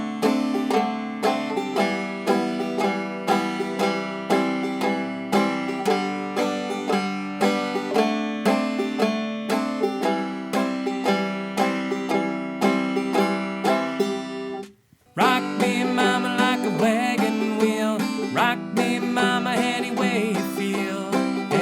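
Clawhammer banjo plays a song, a steady strummed chord rhythm running loud and close throughout, with a brief drop near the middle before the picking resumes, no voices.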